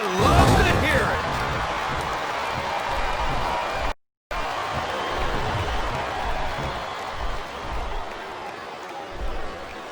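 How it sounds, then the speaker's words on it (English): Crowd noise from a wrestling arena in the WWE SmackDown vs Raw 2007 video game, a steady roar of cheering and babble with a brief dropout midway. "this capacity crowd is making their opinions known tonight"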